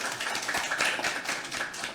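The audience at a National Assembly policy forum applauds as a lawmaker is introduced, a brief, moderately quiet patter of clapping hands with no talk.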